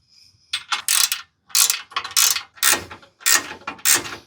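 A ratchet wrench tightens 17mm bolts on a Ford Bronco reservoir mount. Bursts of rapid clicking come in four close, distinct runs separated by short pauses.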